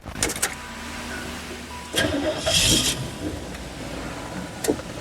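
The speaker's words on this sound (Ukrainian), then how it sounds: "одразу одразу чуєш цей звук V-образної вісімки" A 1996 Chevrolet Caprice V8 engine cranks and fires up, settling into a low idle rumble, with a few mechanical clicks and a brief whir nearby.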